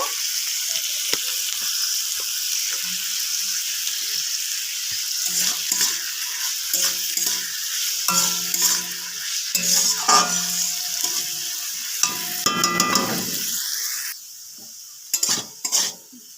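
Potatoes and cauliflower fry in a pan with a loud, continuous close sizzle, broken by spatula scrapes and pan clatter before the hiss cuts off near the end.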